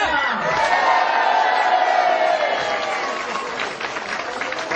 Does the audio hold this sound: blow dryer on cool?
no